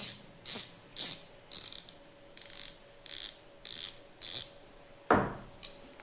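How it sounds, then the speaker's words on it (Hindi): A ratchet spanner from a 4-in-1 set tightens a bolt in a run of about eight crisp, evenly spaced clicking bursts, close and loud, followed by a brief rustle at the end. "तो पूरा बोल्ट में नीचे जाके आप इसको टाइट कर सकते हैं।"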